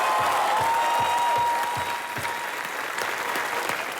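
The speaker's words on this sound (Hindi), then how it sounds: "जोरदार तालियां।" Studio audience applause on the comedy talk show set, a dense steady roar of clapping filling the whole stretch, close and loud, with no speech over it.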